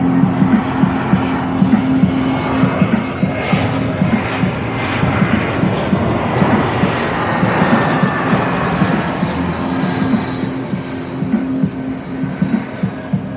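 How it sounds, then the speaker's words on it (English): An airplane engine drones steadily overhead, a loud continuous hum with low thudding pulses that persists without a break. "Look, the airplane."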